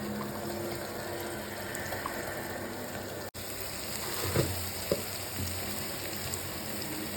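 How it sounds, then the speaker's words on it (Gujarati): Rice being rinsed in water for soya pulao, a faint steady wash of trickling, swishing water with a couple of soft splashes and clinks, quiet and continuous. "ચોખા 4-5 પાણીથી ધોઈ નાખવાના હરખી રીતે"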